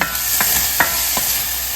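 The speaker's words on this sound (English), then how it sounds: "My chicken is still cooking." Chicken frying in a pan hisses with a steady sizzle while a few quick scraping stirs cut through at regular intervals, close and fairly loud.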